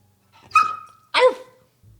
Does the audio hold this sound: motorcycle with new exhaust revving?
no